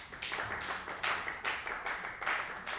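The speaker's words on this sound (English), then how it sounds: "Don't just stand there," A few people clapping in a radio studio during a roots music broadcast, a quick, regular rhythm of close hand claps in short pulsing bursts at low volume.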